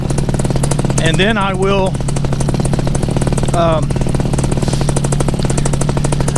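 Paramotor engine idling on the ground, a steady buzzing drone with a low pulsing rhythm running throughout, close and loud, while someone talks briefly over it.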